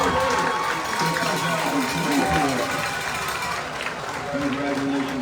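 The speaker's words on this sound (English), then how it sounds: "please give me a" Stadium crowd applauding at a high school football game, a broad roar of clapping and cheering across the stands, steady and moderately loud with crowd chatter mixed in.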